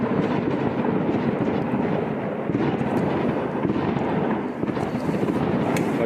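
Fireworks on Christmas night in Romania: a dense, unbroken barrage of crackles and booms merging into a constant roar, with sharper pops standing out now and then throughout.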